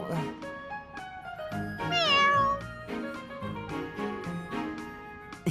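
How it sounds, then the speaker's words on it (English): A cat meows in the video game Fire Emblem: Three Houses, with several loud, close calls and one drawn-out rising and falling meow near the middle, over steady background music. "I never would have guessed a cat this big could sneak into our pantry"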